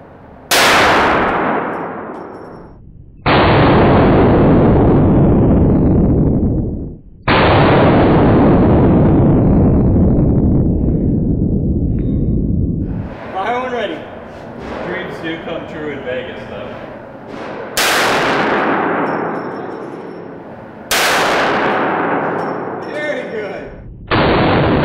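Gunshots at an outdoor Las Vegas shooting range, about five sharp cracks with long ringing decay, spaced a few seconds apart, loud and close, with voices talking between them.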